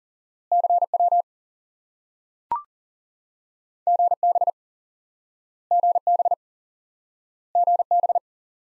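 A pure Morse code CW tone sounds in four evenly spaced groups of short repeated dits of a single element, crisp and clean over silence, with one brief click between the first two groups.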